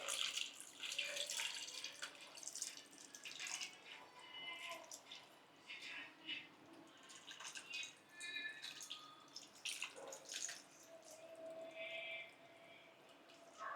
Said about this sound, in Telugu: ఇప్పుడు చింతపండు పులుసు పోసుకోవాలి. ఫిష్ పీసెస్ మునిగేంత వరకు వేసుకోవాలి.